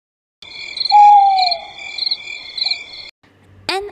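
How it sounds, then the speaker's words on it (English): An owl hoots once, a soft, mellow call rising over steady chirping insects and night ambience, with a brief sharp chirp near the end. "An owl hoots."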